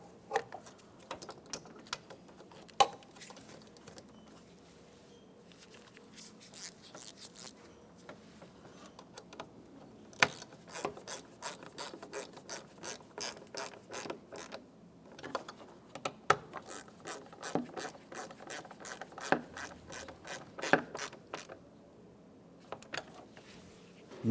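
Small T20 screws on a Ford Flex mass airflow sensor are tightened with a ratcheting driver, giving quick runs of fine clicking in bursts with brief pauses, close and quiet with no talk.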